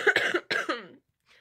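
A person coughs at close range in two harsh bursts of several coughs each, followed by a short faint noise, with no speech.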